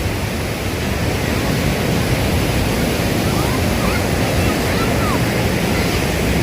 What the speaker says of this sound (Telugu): మీరు చూస్తున్నది పాకాల బీచ్ అండి